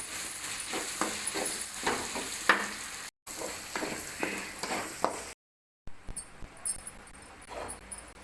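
Spiced potato filling for chicken chapati rolls sautés in a pan with garam masala and chili powder, a soft sizzle broken by rhythmic stirring scrapes, with two brief gaps of silence.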